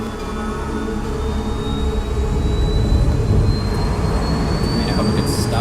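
Fighter jet engine in Ace Combat 7 roaring steadily and rising in pitch as it accelerates, a loud continuous whine over a dense rumbling background.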